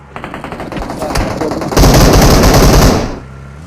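Automatic gunfire in PUBG Mobile on the Sanhok map: a steady run of rapid shots builds, then swells into a loud, dense burst for about a second before cutting off, with a voice faintly in the background.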